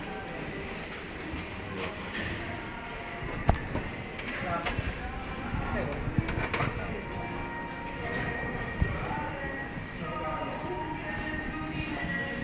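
A train moves through Ostiense railway station in Rome, a continuous rumble with faint clacks and rattles, while station announcements and voices carry over the ambient noise.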